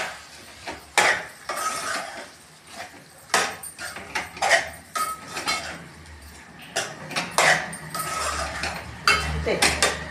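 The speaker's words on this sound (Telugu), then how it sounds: "ఇప్పుడు ఒకసారి కలుపుకుంటున్నా." Moong dal with ridge gourd stirred in a pot with a utensil, giving repeated close scraping and clinking knocks against the metal sides in an irregular rhythm, with no voices.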